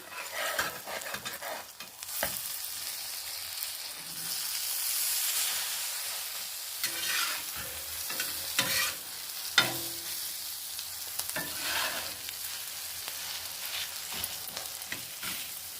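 An onion egg omelette frying in a pan just after being flipped, giving a steady bright sizzle with occasional scrapes and spatula taps. No one talks.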